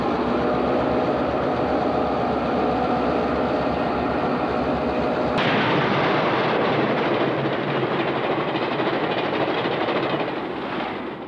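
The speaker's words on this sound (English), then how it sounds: "Train 91 with engine 218 arrives at Port Clinton" A Reading Company train hauled by engine 218 pulls into Port Clinton station in the late 1940s, a loud continuous rumble of wheels and engine that shifts character midway and fades slightly at the end.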